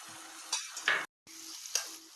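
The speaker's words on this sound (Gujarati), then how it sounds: "હવે આપણે જે લસણનો પેસ્ટ બનાવેલો છે તે એડ કરી દઈશું. તે એડ કરી અને હલાવી લઈશું." Garlic paste sizzling as it is stirred in a hot pan for a Magra fish curry, steady frying hiss with stirring scrapes, cutting out briefly mid-clip before resuming; no voices.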